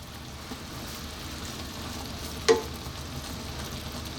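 Chicken for chicken hamonado sizzles steadily in a pan, a soft continuous frying hiss with one sharp clack as the pieces are flipped partway through.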